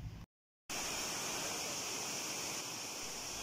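A waterfall pours in a wild outdoor spot as a steady, dense rushing roar, cut by a brief moment of silence near the start before the flow returns at full, even strength.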